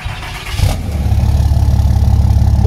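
Ford F1000 truck fitted with a Dodge Ram engine cranks and fires, then settles into a loud, deep, close rumble that swells as it is revved.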